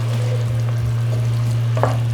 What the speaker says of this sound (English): Otherwise, just gently stir them around